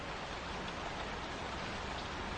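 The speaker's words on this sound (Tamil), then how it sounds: "மழை நிற்கிற மாதிரி தெரியல" Rain falls steadily throughout, a soft, even hiss with no breaks, fairly quiet and with no voices over it.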